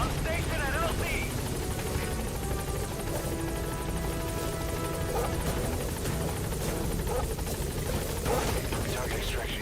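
Pequod helicopter from Metal Gear Solid V hovering at a landing zone, a steady loud rotor drone running the whole time under game effects and speech.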